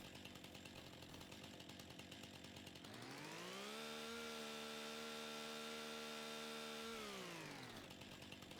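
Chainsaw in Farming Simulator 25 cutting up a tree, a steady buzzing drone that rises sharply in pitch as the cut begins, holds high for several seconds, then drops back to idle.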